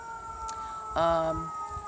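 Emergency vehicle sirens passing outside, heard as one brief, fairly faint wailing tone that rises and sweeps down, then fades under steady room ambience.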